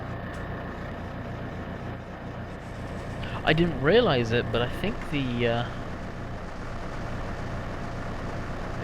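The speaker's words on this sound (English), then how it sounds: "I forgot how loud this tractor was" Heavy tractor engine in Farming Simulator 15 drones steadily and loudly throughout, with someone talking over it midway.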